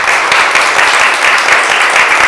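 Steady applause from a studio audience at a Haitian talk show, dense clapping that fills the whole stretch at an even, moderately loud level with no voices on top.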